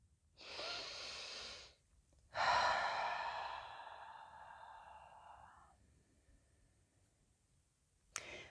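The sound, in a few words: deep breath taken during breathing exercise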